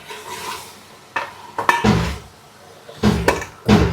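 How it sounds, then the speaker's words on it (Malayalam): Boiled tapioca, drained and set back on the stove, is pounded and stirred in a metal pot. Several distinct thuds and scraping clanks of a spoon against the pot come in uneven bursts with brief pauses between. "ഇനി നമുക്ക് കുത്തി മറച്ചു കൊടുക്കാം."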